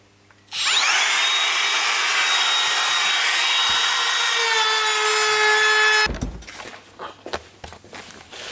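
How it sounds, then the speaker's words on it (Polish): Wood router spinning up and milling a wooden candlestick, a loud steady high whine held for about five seconds before it cuts off abruptly, followed by faint clatter. "musimy włączyć maszynę i będę teraz frezował"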